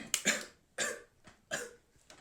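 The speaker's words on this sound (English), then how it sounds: "Sometimes a cough is just a cough." Four short, sharp coughs in a row, spaced about evenly apart, fairly close and otherwise quiet between them.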